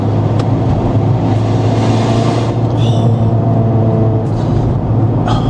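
Steady engine and intake drone from a car on the move, a continuous low rumble with broadband road and air noise, loud and close, no clear revving peaks.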